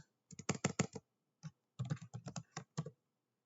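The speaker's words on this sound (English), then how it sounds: "Let me type it up here." Keystrokes on a computer keyboard, a quick cluster of close taps, a lone tap, then a longer uneven run of typing, near and fairly quiet.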